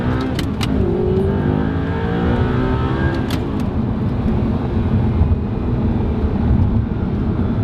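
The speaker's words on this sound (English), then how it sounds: "you'll be able to really sort of hear the V8 sound" An Audi R8 V8 engine revs hard and accelerates, a loud continuous roar with rising pitch sweeps, close by throughout.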